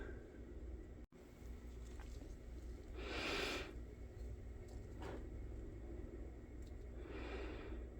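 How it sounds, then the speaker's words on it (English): Soft breathing very close to a phone microphone, a few slow airy breaths over a quiet background hum, with a brief click near the start. "Sorry if you can hear my breathing."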